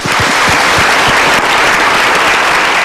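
Loud, dense audience applause rolls on continuously, a thick crowd of clapping hands with some heavier individual claps punching through near the front.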